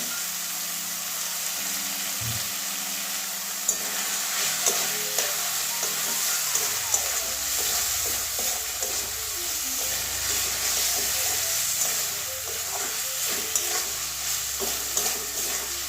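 Soya chunks fry in spiced oil with potato and pointed gourd for a Bengali curry, a loud steady sizzle and hiss over sixteen seconds, with a spatula scraping and stirring the pan in uneven strokes.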